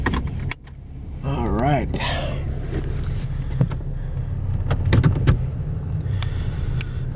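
A seatbelt being pulled and buckled inside a 2014 Nissan Frontier SV 4x4 pickup with 142,608 miles, a short zip of webbing and sharp metallic clicks over a steady cabin hum, with brief talking.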